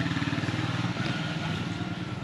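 A Yamaha Aerox V2 155 scooter idles with a steady, pulsing low engine putter, loud and close, running alone without talk.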